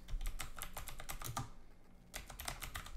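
Rapid clicking of a computer keyboard as a checklist item is typed into Microsoft Planner in Teams, close and crisp, with a brief pause midway before the typing resumes.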